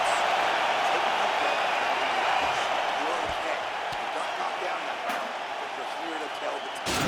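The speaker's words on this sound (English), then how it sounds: "So the crowd voicing its appreciation after that round" A dense, steady roar from an arena crowd in EA Sports UFC 4, cheering after a round of a bout. The noise holds at an even level for the whole stretch, with a few faint sharp knocks on top.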